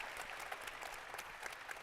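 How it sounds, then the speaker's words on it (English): A panel-discussion audience gives a brief round of applause, steady close clapping that is fairly faint overall, with a little voice underneath. "How about a round of applause for these guys?"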